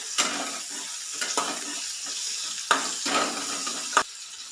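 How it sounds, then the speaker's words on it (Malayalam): Okra frying in oil with turmeric is stirred in a pan, soft sizzling under several scraping sweeps and a couple of sharp utensil knocks, quiet and close, no talk. "ഇനി ഇതിലേക്ക് കുറച്ച് മഞ്ഞൾപ്പൊടിയും കൂടെ ഇട്ട് കൊടുക്കാം. ഒന്ന് ഇളക്കിയതിന് ശേഷം നമുക്കിത് കോരിയെടുക്കാം."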